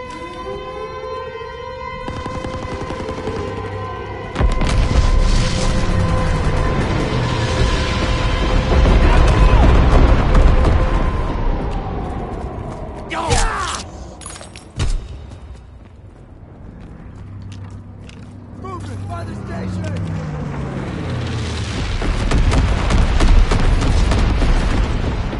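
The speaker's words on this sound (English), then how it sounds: "Carpet bombing run inbound." A carpet bombing run in a PS4 multiplayer war game brings loud, sustained, rumbling explosions with a rising and falling siren-like wail, sharp blasts midway, then another heavy rolling barrage.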